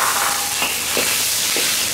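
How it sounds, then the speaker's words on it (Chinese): Dried chilies and Sichuan peppercorns frying in hot oil in a large wok over a strong wood fire in a rural kitchen, a loud, bright sizzle with brief scraping stirs. "把它香料爆香"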